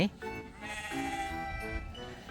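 Sheep bleat repeatedly at The Field in Cha-am, Thailand, close and fairly loud, with wavering calls running through the outdoor farm-park background.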